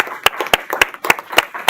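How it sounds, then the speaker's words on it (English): A few people clapping at a customer service awards ceremony for quarterly award winners, with sparse, separate claps at a slow, uneven pace, close and moderately loud, and no voices. "a final warm round of applause for all of our quarterly award winners in the room"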